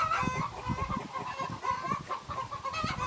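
Hens cluck and squawk in a busy, overlapping chorus inside a backyard chicken run, close and steady throughout with no talking.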